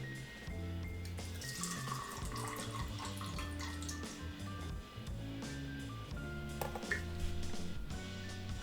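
Tap water running into a graduated cylinder during black-and-white film developing, a continuous soft trickle with gurgling tones rising and shifting as the cylinder fills, quiet and close.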